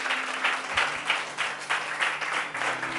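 A church congregation claps loudly in praise during a worship service, with bursts of applause swelling and easing in waves and a faint hum underneath.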